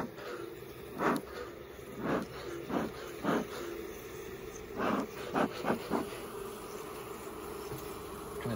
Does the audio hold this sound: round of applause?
no